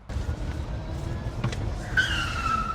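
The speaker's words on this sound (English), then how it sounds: "This tiny Twizy car drives around the streets" A tiny Renault Twizy electric car drives along a street, giving a low road rumble with a brief tyre squeal or whine near the end.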